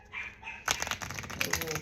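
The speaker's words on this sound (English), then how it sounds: "Those little turkeys." Young turkeys clucking outdoors, a brief burst of several quick chirping clucks and some flutter, fairly close and alone.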